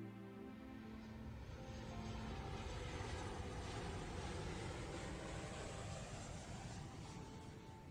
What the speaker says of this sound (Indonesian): Pagi ini di Jakarta, sebuah pesawat lepas landas menuju New York.